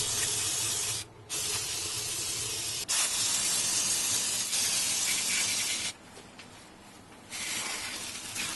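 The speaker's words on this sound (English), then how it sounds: "I'm going to spray everything down with brake cleaner" An aerosol can of brake cleaner sprays over a weed eater in long hissing bursts, with brief pauses between them, close and fairly loud.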